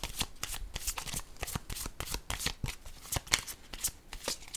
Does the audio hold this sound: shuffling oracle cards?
yes